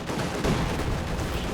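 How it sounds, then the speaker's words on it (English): Sustained DShK heavy machine gun fire in the Company of Heroes 2 game, a dense, steady rattle of bursts blended into a loud, continuous wash of battle noise. "Catching the Germans there with Dushka fire"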